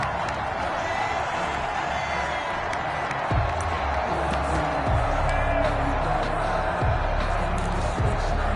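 Stadium crowd at an American football game, Kansas City, roaring and cheering after a touchdown, a broad sustained wash of distant voices and scattered whoops with a commentator talking over it.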